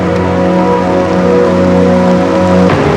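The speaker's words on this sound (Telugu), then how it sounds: "వర్షం బాగా కురుస్తుంది" Steady, dense rain hisses loudly throughout, a constant broadband wash with a low sustained hum beneath it.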